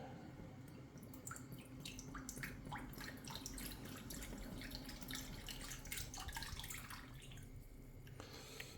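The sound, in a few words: pouring liquid into a bowl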